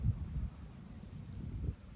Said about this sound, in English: This is gonna be a bad